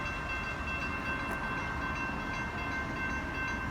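Northbound Amtrak 22 passenger train rumbles past at Stassney Lane with a dense, steady roar of wheels and cars, loud and close throughout, without a clear horn blast.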